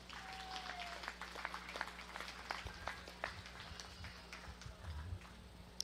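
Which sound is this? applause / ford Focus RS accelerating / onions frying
applause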